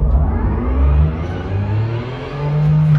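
A race car engine in a racing video game climbs in pitch as it pulls away after a gear shift, a loud, close, continuous rising drone at the Eau Rouge section of the track.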